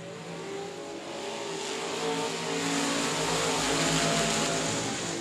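Limited modified race cars at South Texas Speedway roaring together as a heat race goes green, a loud, steady pack of engines swelling louder as the field accelerates past.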